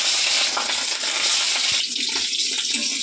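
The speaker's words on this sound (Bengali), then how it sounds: "3টে ডিম ভেজে নেব" Fish roe fries in hot oil with a loud, steady, close sizzle and crackle that does not let up.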